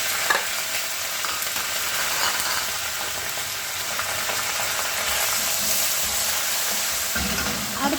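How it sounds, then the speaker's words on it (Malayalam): Curry leaves and dried red chillies crackle and sizzle steadily in hot oil while tempering for vegetable dal, a continuous close frying hiss with faint stirring and no talk. "വറ്റൽമുളകും ഇട്ട് കൊടുത്ത് അടുത്ത നമുക്ക് കറിവേപ്പില ഇട്ട് കൊടുക്കാം"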